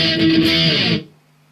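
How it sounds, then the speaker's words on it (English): Distorted electric guitar power chords for a punk rock interlude ring out loud and dense for about a second, then cut off sharply, leaving a faint low hum. "we're just going to have to put on our distortion again then"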